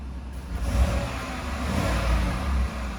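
A 2018 Chevrolet Silverado LTZ crew cab 4WD pickup engine idles steadily nearby, a low rumbling drone with slight swells in revving, no voices.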